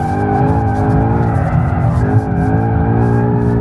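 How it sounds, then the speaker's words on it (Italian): A large four-wheel-drive performance car drifting, its engine holding a loud, continuous harmonic roar close by with faint tire noise blended in. "Che drift, ragazzi, che drift!"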